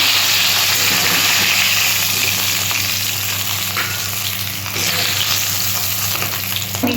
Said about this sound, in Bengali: বাকি মাছ দুটো আমি এভাবে ভেজে নেব